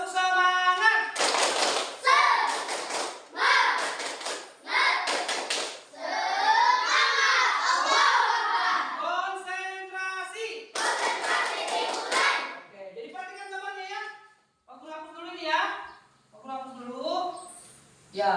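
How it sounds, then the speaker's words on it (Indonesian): A fifth-grade class doing a rhythmic spirit clap, sharp patterned hand claps in short groups alternating with children's chanting voices, clear and close, with pauses between phrases. "Tepuk semangat."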